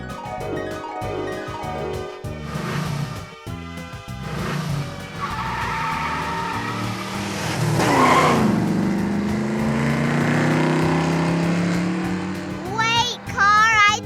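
A cartoon car speeds off with long squealing tire skids and engine revving, loud and close, mixed with a voice and bright cartoon music.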